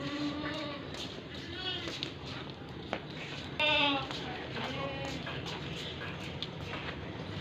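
Beetal and Totapuri goats bleat repeatedly at close range on a farm, several wavering calls scattered through the clip, one louder, while someone talks over them.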